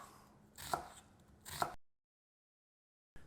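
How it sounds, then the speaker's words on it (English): Onions being chopped on a board with a knife, two close, crisp bursts of cutting about a second apart, then abrupt silence before another brief cut starts. "Now that we got our onions chopped"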